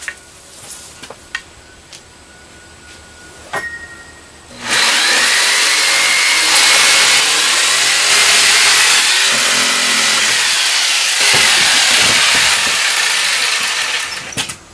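A loud power saw whines and grinds steadily through a dinghy's hull panel, cutting out the engine well, for about ten seconds, after some quieter clicks and handling noises.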